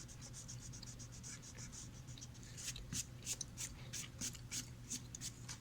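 Faint rubbing of an eraser over a pencil drawing on paper, with soft, quick back-and-forth strokes that grow more distinct and rhythmic in the second half.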